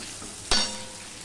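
A short burst of sizzling as fried fish heads hit a hot pan with chilli powder, then a soft lingering frying hiss.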